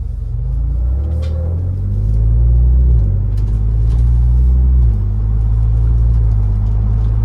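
A 2021 Ford Bronco Badlands with the 2.7-liter turbo engine, driving in eco mode, heard from the cabin as a steady low rumble that rises with acceleration and drops at quick upshifts, no talking.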